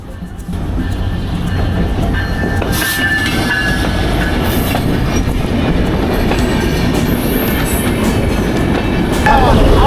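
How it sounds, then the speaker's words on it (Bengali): A shuttle train pulls into Kumarkhali station in Bangladesh, its loud continuous rumble and rattling wheels filling the scene up close, with faint squeals and clatter along the way. "ট্রেন চলে এসেছে কুমারখালী স্টেশনে"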